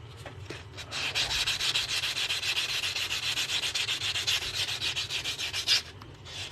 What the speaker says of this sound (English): Now we're gonna sand our cut edge.